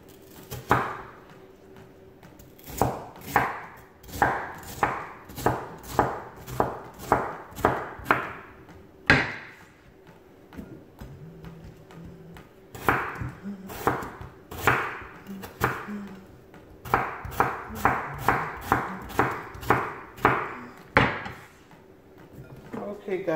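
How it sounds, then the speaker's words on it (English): Potatoes being diced with a knife on a wooden cutting board, long runs of rapid, evenly spaced chopping knocks, loud and close, broken by short pauses. "I am done dicing the potatoes"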